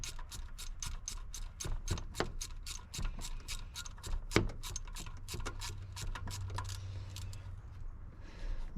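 A ratchet fitted with a swivel works on a Nissan Hardbody's exhaust pipe clamps, giving bursts of rapid, close clicking with short pauses between strokes.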